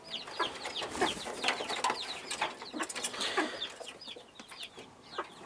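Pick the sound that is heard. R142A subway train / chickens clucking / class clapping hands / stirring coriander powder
chickens clucking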